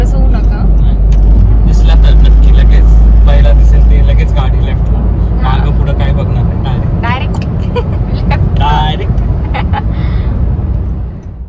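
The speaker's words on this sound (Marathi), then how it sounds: "पुणे सोलापूर हायवेवर ड्राईव्ह करतायत." A car cruises at modest speed along the Pune-Solapur highway, its steady low engine and road rumble filling the cabin for the whole stretch while people talk over it.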